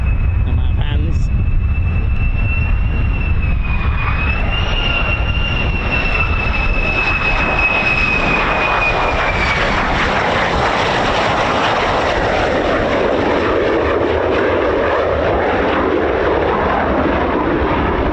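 A military fighter jet arrives at RAF Lakenheath, home of F-15s and F-35s, with a loud, sustained engine roar and a high whine that slowly shifts pitch as it passes close by, steady and dominant for the whole stretch.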